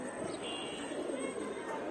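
Pigeons at a sky pigeon loft coo softly and steadily in a low murmur, with a broad wash of rustling and background noise around them.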